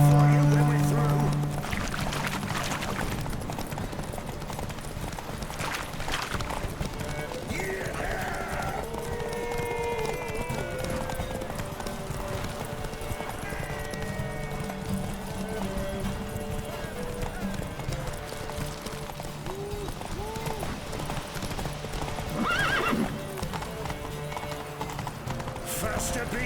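Roach the horse gallops in The Witcher 3, rapid rhythmic clip-clop hoofbeats running throughout beneath voices talking and urging the horse on, with occasional snorts.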